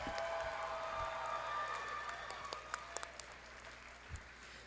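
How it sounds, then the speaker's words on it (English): Applause from a masquerade audience for cosplay contestants, a faint, distant wash of many clapping hands with a few sharper claps and thumps standing out. "can we get a round of applause for all of our contestants?"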